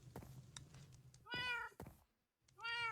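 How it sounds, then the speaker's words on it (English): Cats meow in the Minecraft video game, two distinct drawn-out meows with a short gap between, clear and fairly close against a low background hum. "we can hear the cats outside"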